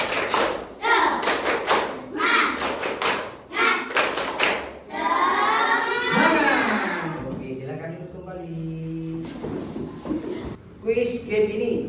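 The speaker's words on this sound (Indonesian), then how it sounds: "Ayo kita kaki tepuk semangat. Tepuk semangat." A classroom of students performing a rhythmic spirit clap, tepuk semangat, with bursts of patterned claps and thumps in groups, interspersed with children chanting and a teacher's voice.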